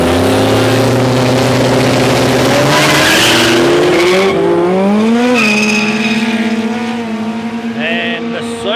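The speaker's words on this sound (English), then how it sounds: "and the Supra goes up in smoke. Yes, plenty of horsepower in that Supra." A Toyota Supra drag racing on a no-prep airstrip, with a loud, sustained roar of a high-horsepower engine and spinning, squealing tires, rising in pitch as it launches, heard close and alone without talk.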